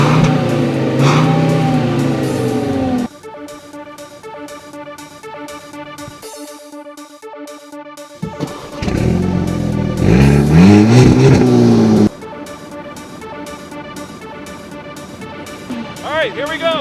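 A 2013 Volkswagen Beetle and an Eos convertible rev and accelerate on snow in a race, loud engine surges rising and breaking off with gear changes, while people talk and shout over the motors.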